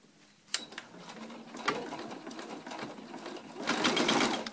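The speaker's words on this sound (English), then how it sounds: "now the last step is going to be just that satin stitch that goes all the way around the top of the cupcake" A domestic sewing machine runs a zigzag satin stitch around a cupcake appliqué, starting with a click and then buzzing in a rapid, steady mechanical whir that grows louder near the end, close and without speech.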